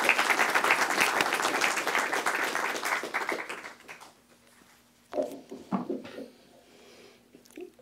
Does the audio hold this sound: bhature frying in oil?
no